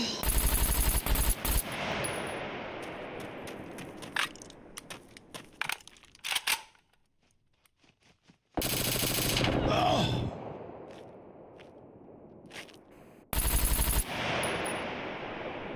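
Heavy-recoil automatic gunfire in SCUM: a loud opening burst, scattered single shots that fade into near silence, then two more sharp bursts, close and without talk.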